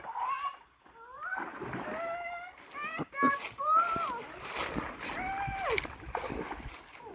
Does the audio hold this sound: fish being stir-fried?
no